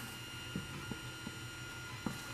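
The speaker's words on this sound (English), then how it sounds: "that printer you heard in the background" A 3D printer runs in the background of a hobby room, a faint steady hum broken by soft, irregular clicks and ticks from its moving parts, with no voices present.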